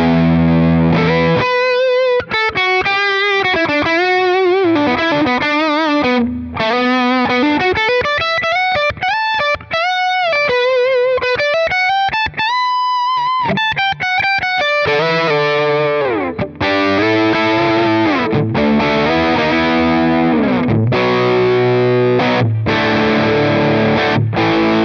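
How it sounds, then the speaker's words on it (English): An Eastman T486 electric guitar played through overdrive, a loud distorted riff with sliding runs and sustained chords continuing throughout with no voice. "So let's kick it with some overdrive in front of that."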